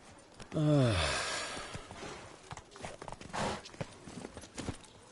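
Roach the horse in a video game breaks into a run: a loud snorting whinny up front, then a steady run of hoofbeats with breathy snorts, close and fairly loud.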